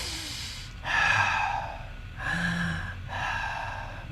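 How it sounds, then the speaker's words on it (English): Three loud, close breaths, each a long airy rush, drawn in and out slowly and evenly during a meditation demonstration, with no talking. "Breathing in, breathing out."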